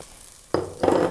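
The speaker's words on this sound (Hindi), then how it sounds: "इसको आप 1 मिनट के लिए फ्राई कर लेंगे।" Chopped onion, ginger garlic paste and green chillies dropped into hot ghee for samosa filling, a sudden loud sizzle that swells into steady, close frying crackle with a brief metallic stir.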